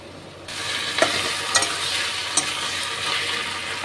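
Onions and potatoes fry lightly in a pan with ginger-garlic paste, a steady close sizzle broken by a few sharp scrapes of stirring.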